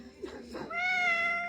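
A house cat gives a short, close meow that rises into a drawn-out, clear cry after a brief soft sound.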